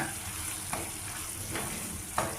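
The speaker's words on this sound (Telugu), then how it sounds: "బాగా మిక్స్ చేసుకోవాలి" Ridge gourd curry with fenugreek chili powder being stirred in a pan, a steady soft sizzle of frying with a few brief scraping strokes of the spoon, close and quiet.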